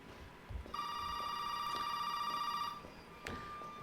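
A telephone in the VR game Resident Evil 7 rings once with a sustained electronic tone for about two seconds, followed by a short, fainter chirp.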